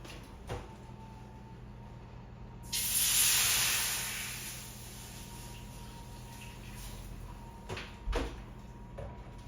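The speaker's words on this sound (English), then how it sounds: "I put a tray in the oven, which I'm going to put boiling water into" Boiling water poured into a tray in a hot oven for baking baguettes: a sudden loud hiss of steam bursts out and slowly fades over a couple of seconds, with a few clunks and knocks before and after.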